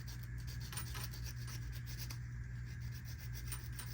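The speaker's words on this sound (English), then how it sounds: "Just going to sand it just a little bit." Hand sanding on a part of a GMC Denali, a steady close-up rubbing scrape that continues without a break over a constant low hum.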